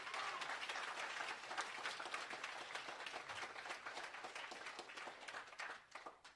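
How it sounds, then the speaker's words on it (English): A church congregation at a Sunday night worship service claps in sustained, even applause, fairly distant and soft, tapering slightly toward the end. "Would you give them a round of applause?"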